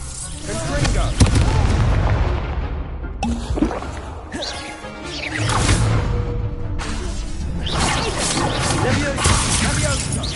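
Booming spell explosions and debris crashes from the Confringo fire spell in the Hogwarts video game, loud and repeated over a busy battle din, with a voice calling out spell names.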